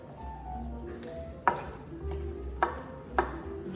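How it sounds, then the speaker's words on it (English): Knife chopping seeded tomatoes finely for everyday salsa, three or four sharp separate cuts against a board amid a faint background hum. "Just chopping up this last one here."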